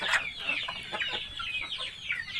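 Chickens cluck and chirp close by in a busy farmyard cluster, newly hatched chicks among them, giving a string of quick, high peeping and clucking calls with no speech.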